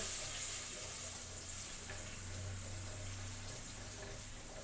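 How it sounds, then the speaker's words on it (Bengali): Pieces of katla fish frying in hot oil give a steady, dense sizzle and crackle that stays close and even throughout, with no talking. "এবার তেলের মধ্যে আমি ছেড়ে দিচ্ছি, দিয়ে কিছুক্ষণ এটা মিক্স করার পর একটুখানি ভেজে নেব হালকা করে।"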